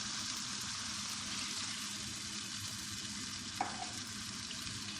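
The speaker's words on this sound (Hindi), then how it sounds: "अब इसमें 1 गिलास पानी शामिल कर देंगे।" A continuous loud sizzle of goat meat frying in a pan, with a brief splash-like burst partway through as water hits the hot oil.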